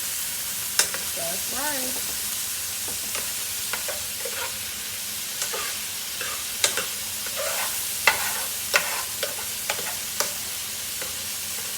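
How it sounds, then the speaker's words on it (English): Food is stirred in a sizzling pan during home cooking, with a steady frying hiss under repeated scraping strokes of a utensil, close by, while a voice and an adult voice speak briefly. "So you want to keep stirring it that way."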